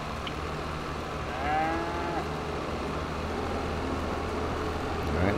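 Cattle in Farming Simulator 22 moo softly in the middle distance, one drawn-out call standing out over a steady low ambient hum of the game farm.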